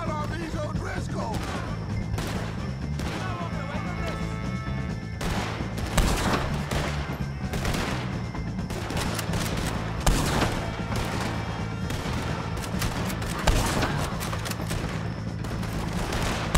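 Dense volleys of gunfire in the Red Dead Redemption 2 video game, rapid overlapping shots with occasional heavier booms, continuous and loud over a low music-like drone, with faint voices.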